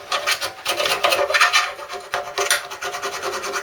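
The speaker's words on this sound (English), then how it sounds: "grating off the excess sort of overfill with your rat file" A rat file rasps back and forth over excess body filler on a garage project, quick rough scraping strokes in an uneven rhythm, close and fairly loud with no talking.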